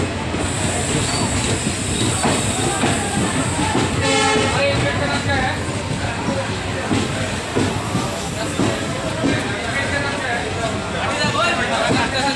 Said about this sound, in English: Chamba Tourist Special Train.